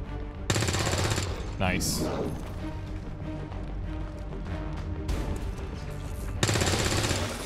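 Resistance soldiers fire on an enemy in XCOM 2, with loud bursts of automatic gunfire at the start and end and sharp cracks in between, while someone talks over the action.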